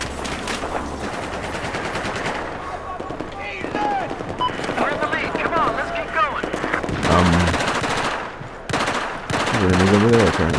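Rapid automatic gunfire and explosive weapon shots ring out in the Battlefield 4 video game, loud dense bursts through most of the stretch, with a player talking over the action.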